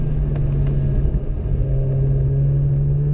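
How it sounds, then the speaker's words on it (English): A Mazda RX-8 street-ported rotary engine at full throttle on a wet racetrack, a loud continuous buzzing roar with a steady high-pitched tone and a brief dip mid-run. "I absolutely love how this car sounds at full throttle"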